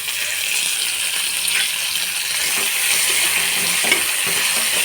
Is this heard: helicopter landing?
no